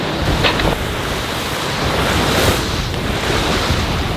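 Wind and waves aboard a Salona S46 yacht on a beam reach in 20 knots of wind with a reefed main, a loud, steady roar of rushing water and buffeting wind on the microphone, with no speech.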